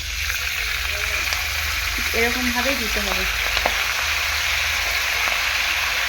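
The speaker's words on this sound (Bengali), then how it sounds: "এরপর কড়াইতে যে তেলটুকু আছে সেই তেলের মধ্যে দিয়ে দিচ্ছি পালং শাক" Spinach hits hot oil in a wok with a loud, steady frying hiss that runs the whole time, and someone speaks briefly over the sizzle partway through.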